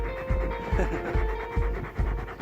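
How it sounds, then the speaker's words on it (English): A dog panting close by in quick rhythmic huffs, about two breaths a second, steady throughout with a faint tone in the background. "Such a good dog."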